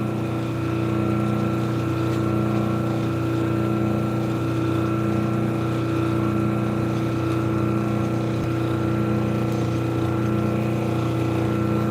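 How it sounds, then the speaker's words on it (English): A lapidary grinding wheel fitted with 600 grit runs steadily, giving a continuous motor hum with a whirring drone that stays loud and unbroken throughout, with no talking over it. "I'm going to move us up to the 600 grit wheel."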